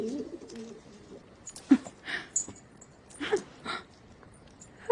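Messenger pigeons coo softly in a few separate low calls, faint and spaced out against a quiet background.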